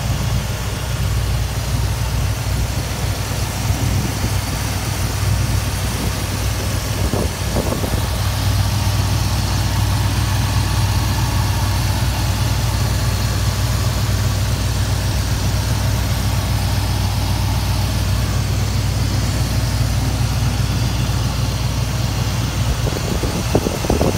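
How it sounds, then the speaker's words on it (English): Steady idle of a 1967 Oldsmobile Toronado engine heard close from the engine bay, a continuous low rumble with fan hum and no talk. "I have the 1967 Toronado running"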